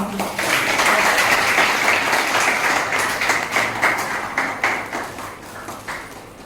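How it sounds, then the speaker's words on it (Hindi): A crowd at a teachers' honoring ceremony bursts into applause that stays dense and steady for several seconds, then thins out gradually as the clapping winds down. "जोरदार तालियां।"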